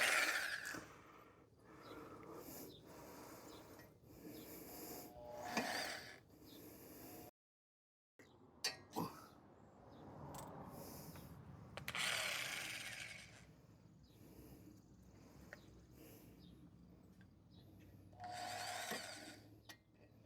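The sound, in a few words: drilling into hardened steel caliper pin to tap it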